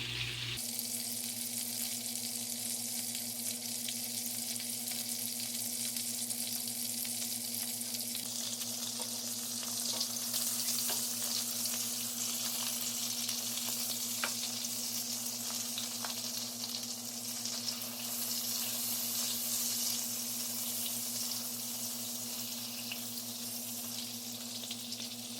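Chicken frying in a pan over low heat, a steady, even sizzling hiss throughout with occasional faint pops, continuous and moderately quiet, no talking.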